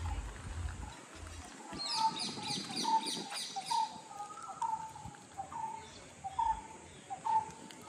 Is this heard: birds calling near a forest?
yes